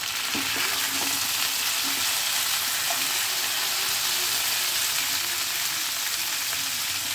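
Pumpkin frying in a pan with onion, garlic and green chili for a pumpkin curry, a steady, close sizzle with faint stirring knocks running unbroken throughout, no voices.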